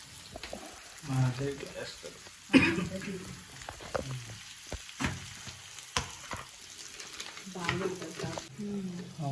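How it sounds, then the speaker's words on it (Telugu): Green chillies frying in oil in a pan for homemade tomato pickle, with a faint sizzle, scattered spoon scrapes and knocks, and someone talking over it at close range. "ఇవి కూడా మంచిగా వేగినాయి మిర్చి"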